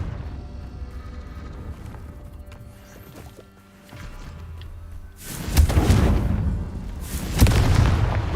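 Confringo blasting spells detonate in Hogwarts Legacy, a quieter stretch of low rumble and chimes giving way to two heavy, booming explosions with crackling tails in the latter half.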